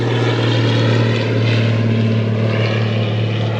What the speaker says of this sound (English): before I was rudely interrupted by the airplane